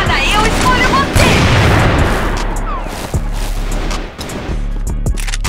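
A grenade explodes in a shooting video game: a loud deep boom that rumbles and fades over a few seconds, followed by scattered sharper shots and crackles.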